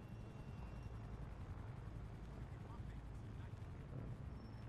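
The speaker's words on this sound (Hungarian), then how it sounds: "Megint ott egy helikopter." A helicopter flies in a video game, heard as a steady low rotor drone that stays at a constant level throughout.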